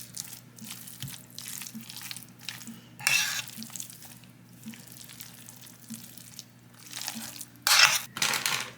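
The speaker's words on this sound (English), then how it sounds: "See if I can mix this without making a huge mess." A spoon scrapes and stirs dry ingredients around a bowl in a home kitchen, a close rhythmic scraping with soft crunching and a couple of louder gritty swishes, alone with no voices.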